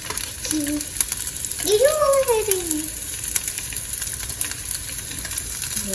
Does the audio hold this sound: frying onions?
yes